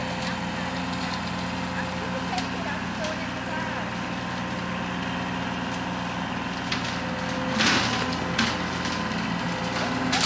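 A tractor bush hogging runs as a steady low engine drone in the background, with occasional crackles and a brief louder burst near the end.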